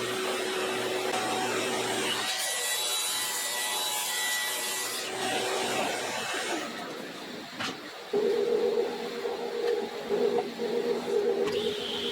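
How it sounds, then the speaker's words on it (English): A table saw rips wood panels to width for a pedalboard box, its steady whining blade noise running loud and continuous, then a higher-pitched cut tone rising partway through. "we'll cut them to width on the table saw"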